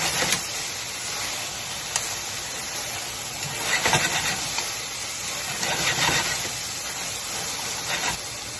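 Beef searing on a hibachi griddle, a dense continuous sizzle and hiss close up, with occasional louder crackles and pops.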